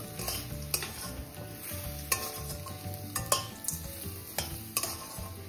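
Spoon stirring beetroot coconut curry with coriander in a pan, sizzling steadily with scraping strokes and clinks at a regular rhythm, close and moderately loud, no talk.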